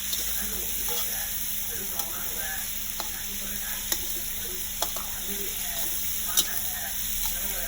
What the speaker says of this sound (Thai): เจียวจนกว่าจะเหลืองนะคะเหลือง ให้เหลืองอ๋อยเลยค่ะ